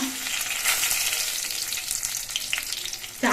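Bay leaves, dried chillies and panch phoron frying in hot mustard oil, a steady close, loud sizzle with bright crackling that holds throughout, with a brief clink near the end.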